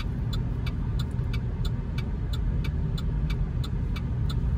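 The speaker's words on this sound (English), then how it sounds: "So this is probably one of the busiest roads in the area." Car traffic on a busy road in a 55+ community in San Tan Valley, Arizona, rumbles steadily as vehicles pass, heard from inside a moving car with a faint, regular ticking over the road noise.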